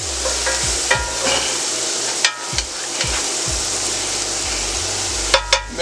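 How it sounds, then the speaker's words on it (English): Onions sear in leftover pork chop grease in a pan, a steady, close sizzle with repeated scraping and knocking of a utensil stirring them, no voices. "sear off these onions. Grab all the little bits of grease that was left from the pork chops."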